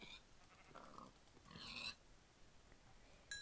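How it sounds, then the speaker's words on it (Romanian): A pig in a PvP video game gives short grunting squeals in two quiet bursts, with faint game background between them and no talking. "mi s-a părut că am mai auzit un porc murind"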